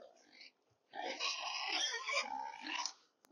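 Pigs on a farm grunt in a short burst, then a longer, louder run of rough, snorting grunts close by, with no talk over them.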